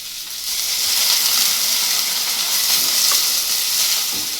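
Biryani masala with fresh coriander and mint leaves roasts in hot oil for chicken biryani, making a loud, steady, hissing sizzle throughout.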